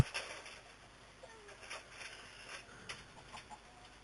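Game chickens in Minecraft cluck in short, quiet bursts scattered across a few seconds, faint against a soft background hiss.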